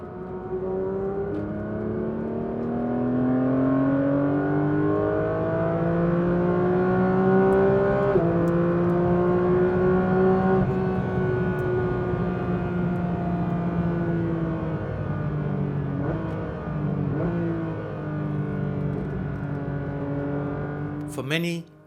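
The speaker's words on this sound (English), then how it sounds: "The naturally aspirated 4-litre flat-six engine produces" A Porsche 911 GT3 with a naturally aspirated 4-litre flat-six drives past, its engine note rising and falling steadily through the gears, loud and continuous for the whole stretch.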